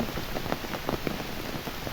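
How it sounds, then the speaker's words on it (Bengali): Steady rain falling with scattered drops pattering on a surface, a continuous close hiss with no voices. "প্রথম বৃষ্টি, তাই একটু ভিডিও করলাম"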